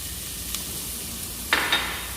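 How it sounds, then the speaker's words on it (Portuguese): Chopped onion fries in hot olive oil in a pan for a shrimp risotto, a steady close sizzle with a couple of brief clinks and stirring scrapes near the end. "A gente coloca a panela para aquecer, coloca azeite, coloca cebola."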